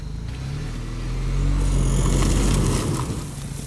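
Off-road vehicle in four-wheel-drive low range crawling up out of sand onto traction boards, its engine a steady low rumble that swells slightly as the throttle comes on gently, close and continuous with no talking.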